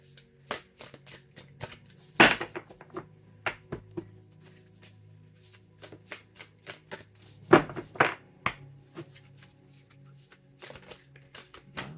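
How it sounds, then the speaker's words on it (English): A deck of cards being shuffled by hand, in repeated crisp riffles and taps with two louder bursts, close and quiet with no talking. "I'm going to pull this card now, but I got to shuffle it a little bit."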